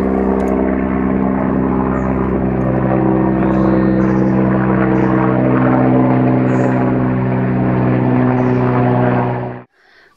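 A small propeller aircraft drones steadily overhead, a loud continuous engine hum with strong harmonic tones holding for about nine seconds before cutting off abruptly.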